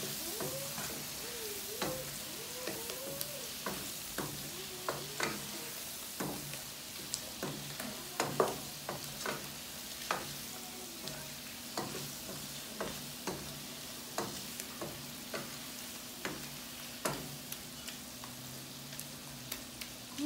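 Garlic shrimp frying in a pan, with a steady faint sizzle and repeated short scraping clicks as the pan is stirred at a fairly even rhythm, quiet and close, with no talking.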